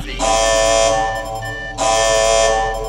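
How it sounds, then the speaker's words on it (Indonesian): A loud, harsh electronic space station alarm blares in two long sustained blasts separated by a brief pause. "Tiba-tiba alarm stasiun berbunyi"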